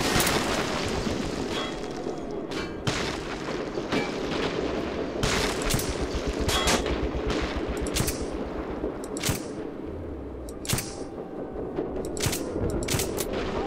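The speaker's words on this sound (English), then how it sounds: "Because that's a machine gun nest over there." Machine gun nest firing in the video game Metro 2033, repeated sharp bursts and single cracks of gunfire over a busy rumbling background, irregular in rhythm and fairly loud throughout.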